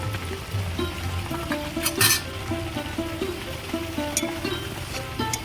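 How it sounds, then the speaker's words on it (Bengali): Shrimp dopiaza in a pan, with pre-fried onions added, garam masala and kasuri methi: steady, close sizzling and bubbling that runs without a break, with a few brief clinks and scrapes. "পেঁয়াজগুলো আমি ভেজে রেখেছিলাম এবারে দিয়ে দেবো"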